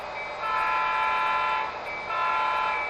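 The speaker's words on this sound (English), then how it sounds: "And there's a whistle." A model locomotive's sound decoder whistle sounds in two sustained, steady blasts with a short gap between, clear and close, over a faint mechanical hum.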